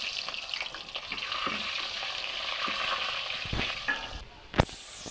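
Potatoes fry in hot oil in a wok, sizzling steadily and loudly up close, with a few scraping stirs and a sharp clatter near the end.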